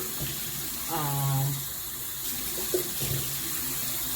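Tap water running steadily into a kitchen sink while a rice pot is rinsed out with hot water, a continuous hiss with light knocks and a faint voice in the background.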